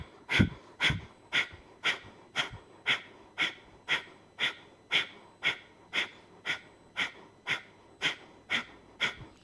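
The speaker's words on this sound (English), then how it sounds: "Using this first breathing technique to clear your mind" Rapid rhythmic breathing exercise in a yoga class: about twenty quick, forceful nasal exhales at a steady pace of roughly two per second, close and clear with no talking.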